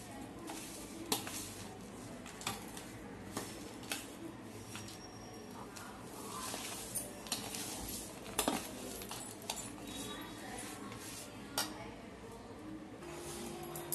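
A spoon stirs and scrapes in a bowl as sugar syrup is mixed into flour, with soft irregular clinks and taps, steady and close, faint throughout.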